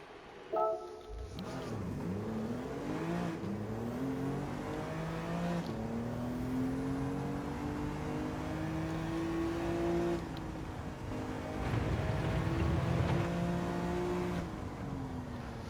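A BMW M2 Competition engine in Gran Turismo 7 drones steadily, its revs rising through several gears with brief dips at shifts, sustained and moderately loud throughout.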